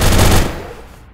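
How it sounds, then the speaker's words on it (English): A short machine gun burst in the turn-based video game Atom RPG: one loud, rapid rattle of shots lasting under half a second, then a quick fading tail. "I will do a short burst on him now"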